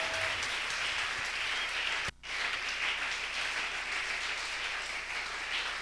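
A church congregation applauding the Lord during a French-language sermon on faith, a steady, dense wash of clapping that fills the room and carries on almost without pause, broken once by a brief dropout.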